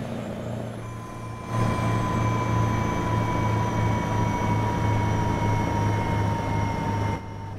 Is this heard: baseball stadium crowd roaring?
no